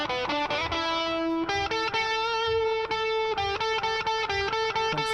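Recorded rock electric guitar with reverb, distorted chords and sustained notes ringing with a spacious tail, played in rhythmic bursts with brief pauses between strums.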